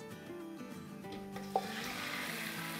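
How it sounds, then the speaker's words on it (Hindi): Whole bone-in chicken dropped into hot oil on a high flame: a brief clatter of the pieces going in, then a steady, close sizzling hiss that swells and holds. "तो विद बोन होल चिकन है, इसको अब हम डाल देते हैं अपने ऑयल में।"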